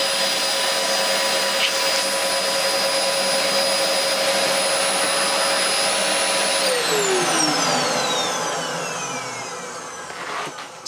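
A refurbished Dyson DC04 vacuum cleaner runs loud and close with a steady whining roar, then its motor pitch sweeps downward as it winds down toward the end.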